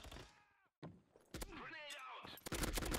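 Gunfire in the mobile first-person shooter Fire Strike, with sharp shots and bursts cutting across a busy game mix of effects and music, loud and close, some shots clustered in a rapid string toward the end.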